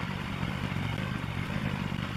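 A Harbor Freight trencher's small gasoline engine idles steadily while loading a garden cart, giving an even, close mechanical drone with a light rattling clatter and no change in speed.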